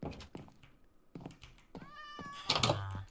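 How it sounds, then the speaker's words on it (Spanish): A cat in the Minecraft video game meows a few times, close and fairly soft, with light thumps and clicks of play in between. "Acabo de escuchar un gato."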